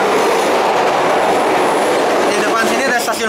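Bengawan passenger train running on the rails in Indonesia, a loud steady rumble of wheels with faint clickety-clack, continuous throughout with metallic squeal near the end.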